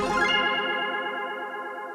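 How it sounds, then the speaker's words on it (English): Heavily processed musical sound from a track in production, swept by a very fast-moving flanger and fed through an Echo Boy plugin set to Space Echo mode, giving a shimmering, warbling wash that rings out alone and fades slightly. "I have some flanger on it that's moving incredibly fast. And then some Echo Boy with the Space Echo on it."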